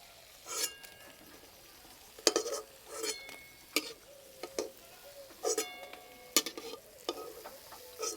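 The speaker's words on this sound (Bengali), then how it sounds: "একটু সময় নিয়ে ভাজতে হবে, তাহলে একদম খাস্তা মুচমুচে হয়ে ভাজা হবে" Crisp pieces of food frying in hot oil are stirred and turned in the pan, giving sharp crackling clatters and sizzling bursts at irregular intervals. The sounds are close and fairly quiet, with no voices.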